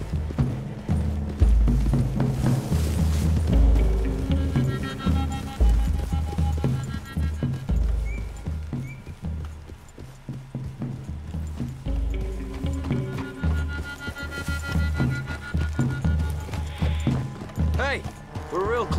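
Horse hooves clatter in bursts of galloping clip-clop in the game Red Dead Redemption 2, loud and close, fading mid-way then returning, with game-style effects layered in.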